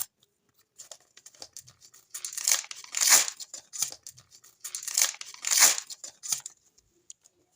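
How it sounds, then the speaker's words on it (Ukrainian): A paper surprise packet crinkles and tears in several bursts, close and fairly quiet, with two longer ripping pulls standing out among smaller rustles. "І відкриваємо другий з вами пакетик."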